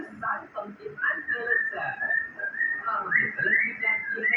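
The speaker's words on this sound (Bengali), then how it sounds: "আর পাখি ডাকতেছে," Birds call with bright, whistled chirps and short warbling phrases, coming back repeatedly over a few seconds at a moderate distance near a home kitchen, with a low, busy background beneath them.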